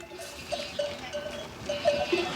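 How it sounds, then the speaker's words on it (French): Flock of sheep returning, with several short bleats scattered over a soft outdoor background, some nearer and louder than others, and a faint bell-like clink. "Les moutons reviennent."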